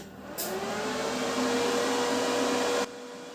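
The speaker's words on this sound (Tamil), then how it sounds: "அதுக்கப்புறம் வெல்டிங் மிஷின் ஆன் பண்ணிக்கலாம்." An arc welding machine is switched on with a click, then its fan and transformer hum run steadily for a couple of seconds before cutting off abruptly, close by with no talk.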